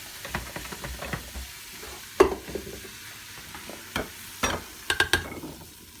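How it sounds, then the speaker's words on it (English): A pork loin searing in a very hot pot gives a soft sizzle broken by several sharp crackles and scraping stirs, close and with no talking. "Just a quick sear."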